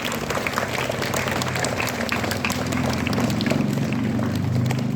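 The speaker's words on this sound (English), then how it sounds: "Can we have a round of applause for all the students who participated?" A steady round of applause from a large group at a middle school assembly, dense clapping filling the whole stretch at an even, fairly loud level.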